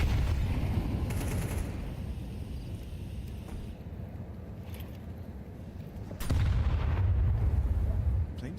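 Gunfire and HE grenade explosions in a competitive shooter round, with steady dense low rumbling fire and heavier booming bursts near the start and toward the end.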